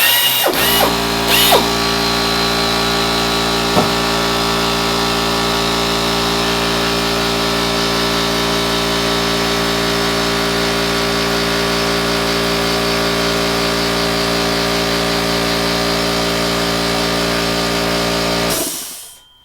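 A power tool works primer out of rivet holes in an aircraft wing spar during a crack repair on a Van's kit plane. It whines steadily and loudly for about eighteen seconds, with a few brief clicks near the start, then stops.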